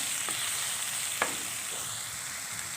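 Chicken keema with black pepper fries in a pan, a steady loud sizzle throughout with a couple of brief scraping strokes from stirring.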